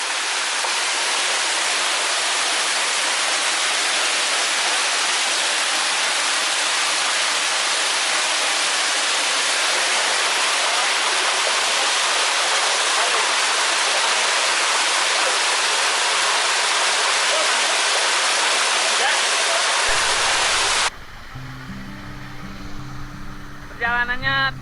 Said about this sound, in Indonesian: Sekarang kita sudah sampai ke curugnya.